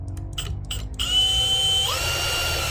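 A handheld power drill whirs up and runs steadily while boring holes for a storage tray modification on a Tracker Grizzly Versatrack, preceded by a few short clicks and handling sounds, close and fairly loud.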